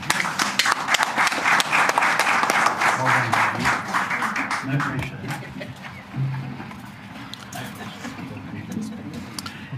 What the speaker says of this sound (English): a big round of applause to all our candidates